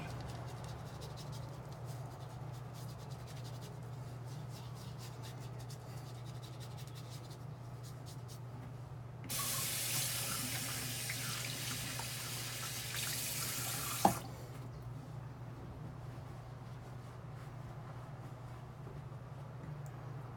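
A tap runs water into a sink during a wet shave with a Razorock Don Marco razor, a steady broadband rush from about 9 to 14 seconds over a low constant hum, ending with a small clack.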